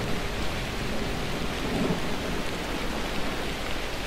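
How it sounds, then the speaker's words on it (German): Rain and thunder in the video game Shelter 2, a steady dense downpour with a low rumble swelling near the middle, loud and continuous with no voices. "Ein Blitz, das Blitz und donnert sogar."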